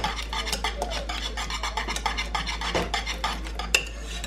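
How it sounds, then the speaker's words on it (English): A spoon stirs a mixture of butter and lemon zest in a bowl, making close, steady rhythmic scraping and light clinks against the bowl, with a sharper knock near the end. "I'm gonna stir that up."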